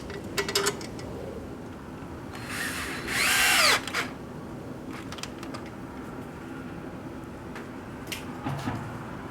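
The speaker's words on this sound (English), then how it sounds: "Place the screw, give them a few turns, slightly, they have to go inside slightly." A power screwdriver briefly whirs as screws are driven into a 150cc scooter crankcase, one short loud burst amid quieter clicks and handling noises.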